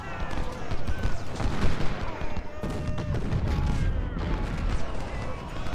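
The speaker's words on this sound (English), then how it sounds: "So we'll get up and get at him with some small arms fire" Small arms fire in Ultimate General: Civil War crackles as steady massed musketry with distant booms underneath, continuous and fairly loud while a voice talks over it.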